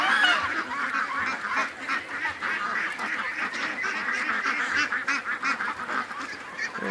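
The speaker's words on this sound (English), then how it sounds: "there's our Canada goose" Canada geese honking repeatedly at the mouth of a creek, a dense, continuous chorus of calls close by with no talking over them.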